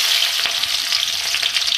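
Onion fries in mustard oil for aloo palak saag, a loud close crackling sizzle with bursts of spattering and a few stirring scrapes, and nobody speaks.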